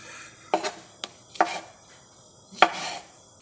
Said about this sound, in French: on peut commencer la découpe des champignons